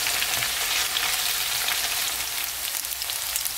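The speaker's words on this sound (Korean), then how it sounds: "두부를 앞뒤로 이렇게 노랑노랑하게 굽었지요" Tofu pan-frying in oil, a steady, close, even sizzle with a dense crackling hiss throughout and no voices.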